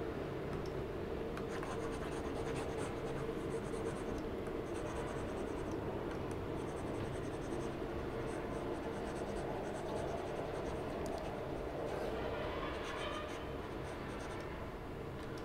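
Pen or stylus drawing an example on a grid, a continuous faint scratchy writing sound with short strokes and pauses throughout, with no talking heard.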